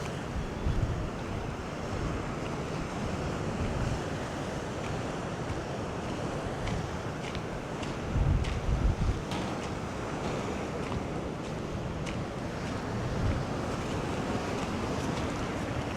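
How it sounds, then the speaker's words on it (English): Sea waves crashing on rocks along a Kerala shoreline, a continuous broad roar of surf mixed with gusty wind buffeting the microphone, with a few heavier surges standing out. "see the waves crashing on rocks rather than being right on the beach"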